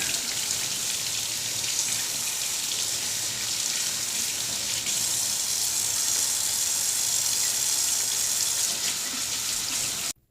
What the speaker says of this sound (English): Gotta make sure you rinse your vegetables.